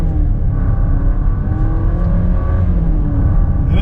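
A 2026 Jeep Compass Limited pulls away and accelerates, its engine note rising steadily as it gathers speed, heard from inside the car, close and continuous, with no talk over it.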